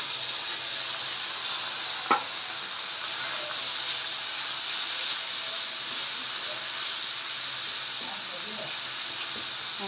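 Spices go into a hot pan of dried fish, producing a loud, continuous hiss and sizzle close up that holds steady, with a few faint clicks of utensils.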